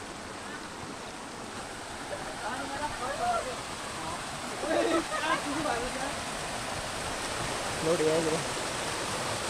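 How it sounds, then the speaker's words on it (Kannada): Waterfall on a Shivapuri trek in Nepal, a constant loud rushing roar filling the scene while someone speaks briefly over it several times. "ಬಟ್ ವಾಟರ್ ಫಾಲ್ಸ್ ಅಂತೂ ಮಾತ್ರ ಸಕ್ಕತ್ತಾಗಿದೆ"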